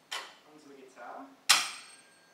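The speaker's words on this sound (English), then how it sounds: "So if I touch tuning fork" A tuning fork touched onto a guitar gives one sharp metallic strike, then a bright ringing tone that slowly fades, after some softer, indistinct sounds.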